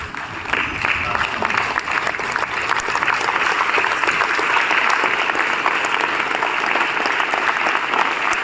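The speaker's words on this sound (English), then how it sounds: "Please give a standing ovation to Adm Sinha." A naval lecture audience on its feet gives a standing ovation, with dense, steady applause that fills the room and holds at an even, loud level throughout, broad and sustained, without any voice standing out.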